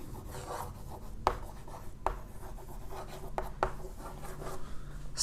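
Notes being written on a board: continuous scratchy rubbing strokes of varying length, punctuated by a few sharp taps as the writing tool meets the surface, close and moderately quiet.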